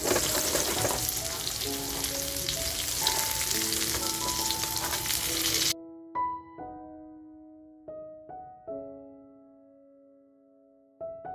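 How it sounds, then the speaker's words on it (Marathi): Surmai (kingfish) frying in a pan for a Malvani fish thali, a loud, steady sizzle for several seconds that cuts off abruptly, followed by soft intermittent clinks and tonal ringing. "तर बघा अशी छान मी मच्छी फ्राय करून घेते"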